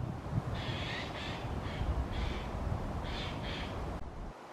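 A magpie calling outdoors near Rivington, giving several harsh, chattering bursts in short clusters at moderate distance over a soft background hiss.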